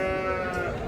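A single sheep bleats close by in a short, wavering, nasal cry at the Kokand sheep market.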